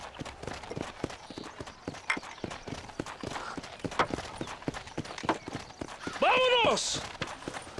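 A horse gallops through a video game cutscene with rapid, rhythmic clip-clop hoofbeats throughout. Characters talk over it, and a whinny sounds near the end.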